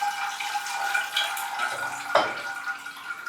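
A potted orchid gets water poured over it for a flush, a steady close splash and trickle that runs on throughout, with a short thump near the end.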